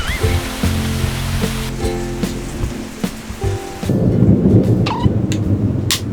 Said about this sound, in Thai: ฝนก็คือยังไม่หยุดตกนะคะ ฝนไม่หยุดตกไม่เท่าไหร่ ฟ้าร้องดังมากอะ